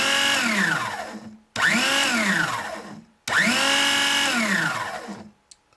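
A power drill spinning a 2mm finescale model train wheel whirs in three bursts, each spinning up and winding down with a falling pitch, separated by brief pauses.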